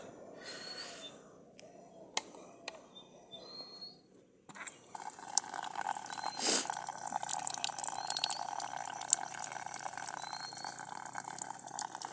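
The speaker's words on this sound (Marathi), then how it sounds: "यामध्ये आतमध्ये पाणी आहे ते पाणी आपल्याला निघू द्यायचं" Water drains out of an engine in a workshop, a steady trickling flow with scattered drips and faint metallic clinks.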